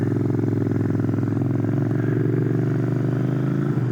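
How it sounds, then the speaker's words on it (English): Motorcycle exhaust rumbling steadily at a constant idle-like pitch, loud and close with a throbbing low-frequency pulse, no voices. "I love this exhaust"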